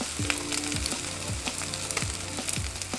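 Egg-soaked bread for French toast fries on a grill kept on low heat, giving a constant close sizzle with repeated scraping strokes and a faint steady tone beneath.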